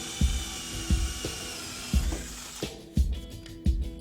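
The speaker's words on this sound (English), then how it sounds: "So now we have the hole drilled." A power drill bores a hole through a wooden board, whining steadily while repeated low thumps land roughly once a second, the pitch dropping as the bit pushes through.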